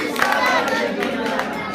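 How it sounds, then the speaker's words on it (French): A church congregation cheers and acclaims the Lord together, a dense roar of voices and shouts filling a short stretch with continuous crowd noise. "Est-ce qu'on peut acclamer très fort le nom du Seigneur?"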